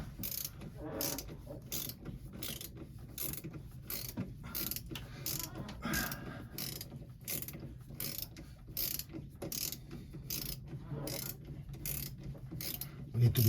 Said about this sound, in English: So we're gonna remove the clamp right now.